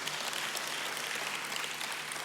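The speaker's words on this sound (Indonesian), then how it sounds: "Ya, boleh tepuk tangan buat Tuhan." A church audience at a worship session claps together, giving dense, even applause that holds steady from start to finish at moderate volume.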